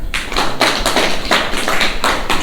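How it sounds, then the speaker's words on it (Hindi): Children clap their hands in a classroom, a loud, close run of irregular claps over a couple of seconds. "ताली बजाइए"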